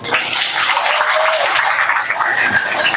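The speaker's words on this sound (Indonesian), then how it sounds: "Tepuk tangan dulu untuk beliau." Enthusiastic crowd applause at an Islamic religious lecture celebrating the Prophet's birthday, a loud, dense burst of many clapping hands that stays strong throughout.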